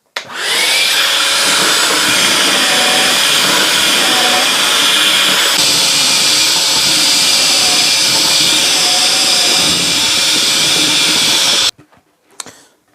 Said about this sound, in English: I'm going to set up now for drilling all the pocket holes.